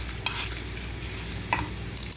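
Curry ingredients dry-roasting in a pan without oil, a soft steady sizzle with a few sharp scraping clinks of a spoon stirring against the pan, close and alone.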